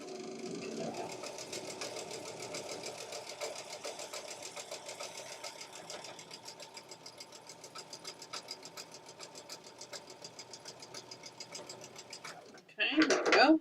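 A sewing machine stitches quilt seams in a rapid, even mechanical rattle that runs steadily for several seconds, then stops abruptly before a short burst of louder clatter.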